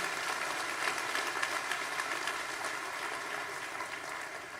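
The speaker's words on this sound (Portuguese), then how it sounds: "pode aplaudir se for para Jesus" A church congregation applauds during a sermon, a steady, dense wash of many hands clapping at once that holds an even level throughout with no voices over it.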